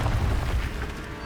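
An Incendio fire spell cast in Hogwarts Legacy on PS5 lands as a steady low booming whoosh, loud and continuous for a moment with no talk over it.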